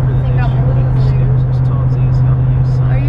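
A car on the road, heard from inside the cabin: a steady, loud low engine and road drone that runs unbroken the whole time, with faint muffled sounds drifting above it.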